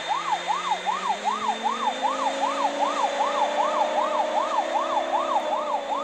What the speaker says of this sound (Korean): 사이렌 울리고,